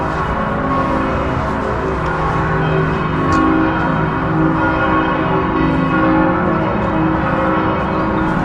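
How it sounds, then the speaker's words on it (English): Several large bells at Old Bergisel peal together continuously, their overlapping tones forming a dense, loud, sustained wash of ringing. "These bells are now ringing."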